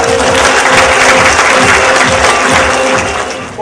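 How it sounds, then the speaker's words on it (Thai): Loud, dense applause from a television studio audience welcoming a guest on a health and beauty program, a steady wash of clapping that eases slightly before the end. "เอาเสียงปรบมือต้อนรับ"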